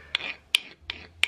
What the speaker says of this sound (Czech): Takže do krabice vezmu pilník na kov.